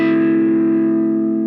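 A single electric guitar chord played with overdrive rings out loud and close, buzzing and sustaining alone for the whole moment.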